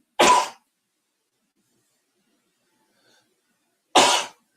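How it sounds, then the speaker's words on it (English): Two sharp, explosive sneezes, loud and close, separated by several seconds of silence. "fixing to sneeze, so hold on, everybody."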